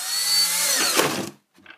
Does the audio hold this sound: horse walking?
no